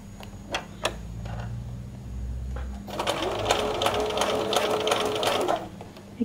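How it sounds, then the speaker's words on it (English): A sewing machine stitches ribbon onto Christmas decorations, a fast steady mechanical whir and clatter running for a few seconds after some faint ticks and rustling. "lift the foot, pivot around, foot down, sew again"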